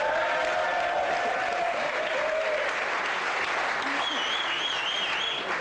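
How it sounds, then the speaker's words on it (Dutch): Studio audience applause on a Dutch romantic TV programme, steady clapping throughout with faint background music or tones layered over it. "Applaus!"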